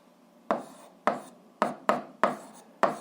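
Six sharp strokes of writing out an algebra solution, each a quick scratchy tap that fades at once, come close and evenly spaced about half a second apart.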